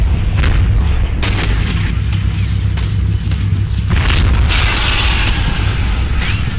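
Javelin missile launches and heavy explosions in a military video game about a battle in Homs boom and rumble in deep, loud bursts, with gunfire crackling between them and no talk.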